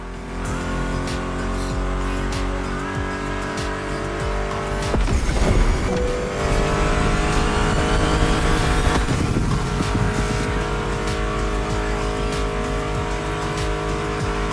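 Car engines roar continuously in The Crew Motorfest racing game, with a rising rev and a brief tire squeal midway, layered over a steady background music track.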